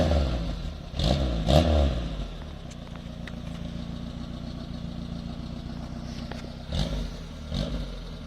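Peugeot 205 Zenith engine idling and then briefly revving, with two quick throttle blips near the start and two more near the end over a steady, fairly quiet idle.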